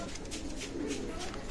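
Pakistani teddy pigeons of Oman bloodline coo in a steady, low murmur at a pigeon loft sale, close and continuous under a dense background hum.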